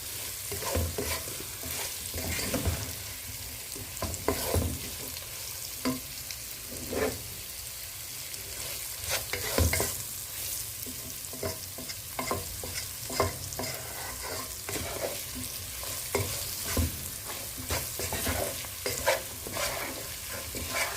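Pilau ingredients frying in a pot while being stirred, a continuous close sizzle broken by frequent scraping and clacking strokes of the spoon, with no voices.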